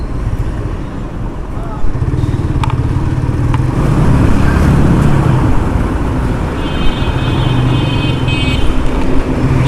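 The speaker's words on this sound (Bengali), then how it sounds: "সকাল সকাল একটু জ্যাম জ্যাম লাগতেছে, সকাল সকাল গাড়ির একটু উৎপাত বাইরে গেছে ভাই" Busy morning road traffic in a jam, with cars, motorcycles and buses rumbling and idling close by, a few short horn toots, and people talking throughout.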